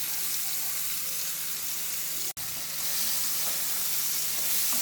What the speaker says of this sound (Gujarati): તેલ ગરમ થાય એટલે એમાં આપણે આ મસાલાવાળા દૂધીના પીસ નાખી દઈશું